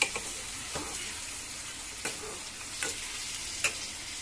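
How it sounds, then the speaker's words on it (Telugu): Marinated chicken, seasoned with salt, chili, cumin and coriander powder, frying in a pan with a steady close hiss of sizzling, broken by a few sharp clinks as it is stirred. "నానబెట్టుకున్న చికెన్ యాడ్ చేశాను."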